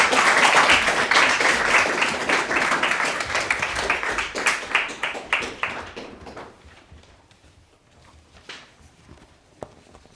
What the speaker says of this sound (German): Einen Applaus für unseren Auftakt heute